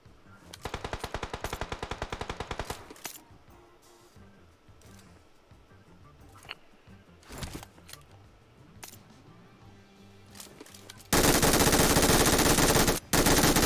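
Rapid automatic gunfire bursts from a PUBG Mobile match crackle close and loud for a few seconds, followed by scattered single shots and then a dense, sustained burst near the end.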